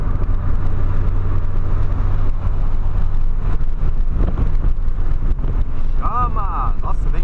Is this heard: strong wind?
yes